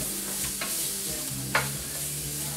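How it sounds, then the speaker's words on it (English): Two shallots sauteing in about half a cup of butter in a pan, giving a soft, even sizzle with stirring scrapes and one brief louder clink, no talking. "And I put in about a half a cup of butter to saute in."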